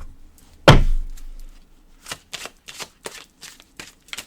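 Oracle cards are shuffled close up: one loud riffle and bridge of the deck, then a series of short, crisp card flicks and taps in quick succession, with no talking.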